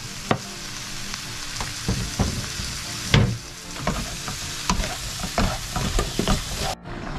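Cherry tomatoes sizzle in a pan as pasta sauce cooks, a steady frying hiss broken by frequent clacks and scrapes of stirring, close and fairly loud with no talking.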